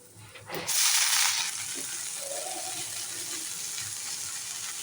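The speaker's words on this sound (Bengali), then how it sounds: "মধ্যে এবার শাকটা দিয়ে দেবো" A sharp burst of hissing as leafy greens hit a hot pan of fried onion and garlic, settling into a steady, even sizzle.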